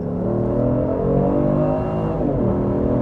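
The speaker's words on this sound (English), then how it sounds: "Going about 70 kilometers an hour, floor it." Genesis G70 3.3T Ultimate Sport accelerating hard at full throttle from about 70 km/h, a steady, loud engine drone with rising harmonics heard from inside the cabin, continuous throughout with no talk.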